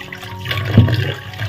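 Tap water runs and splashes steadily over freshly picked kulekhara leaves being washed, a short close stream with no voices.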